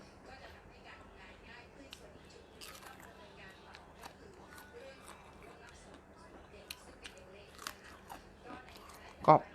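Durian being bitten and chewed up close, with soft crunchy bites and wet mastication spread across the stretch, a sharper knock near the end, and faint background voices.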